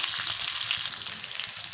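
Curry leaves sizzle in hot oil for a tempering, a dense, steady crackling hiss that stays close and fairly soft throughout the short moment, with no voices.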